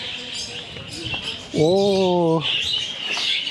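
Budgerigars chirp and twitter in a market amid crowd noise, bright tweets throughout, while a single voice holds a drawn-out vowel partway through.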